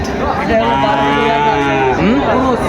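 Young cattle, heifers and calves of Jersey cross and Nepali Gir breeds, at the Raniganj livestock market, give a long, loud, close moo that swells and then bends downward near the end.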